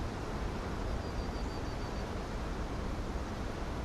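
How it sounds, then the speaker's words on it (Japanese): Waterfall in Final Fantasy XVI, a steady broadband roar of rushing water, constant and enveloping with no breaks. "滝だ。"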